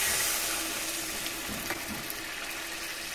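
Water poured into spice paste frying in a pan for a rohu fish curry, a close, steady hissing wash of liquid and sizzle that fades slightly over a few seconds, with no talk.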